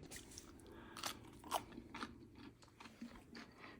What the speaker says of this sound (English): Let's see if we can hear the crunch.